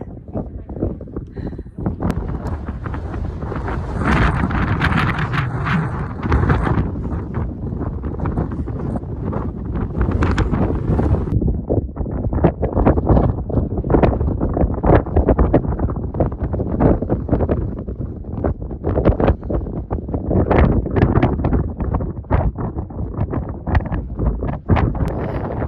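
Strong mountain wind in the Wind River Range roars in gusts against the microphone, with heavy buffeting rumble and rustling that rise and fall throughout, and faint voices partly buried beneath it.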